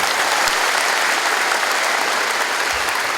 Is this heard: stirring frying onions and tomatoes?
no